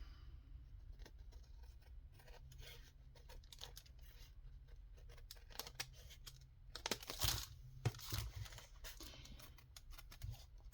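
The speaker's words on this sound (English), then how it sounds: "All right, let's just do scissors." Scissors trim paper packaging and junk mail at close range, a steady run of soft snips and rustles that turns into a louder burst of cutting and crinkling partway through, with no talk.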